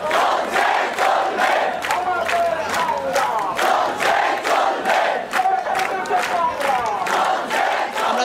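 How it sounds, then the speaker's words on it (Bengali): A large crowd of students from Dhaka colleges and universities chants slogans at a rally in Bangladesh, a loud, rhythmic call-and-response of massed voices pulsing steadily and close throughout. "নানাভাবে তারা তাদের পক্ষের যে স্লোগান সেই স্লোগান তারা দিচ্ছেন"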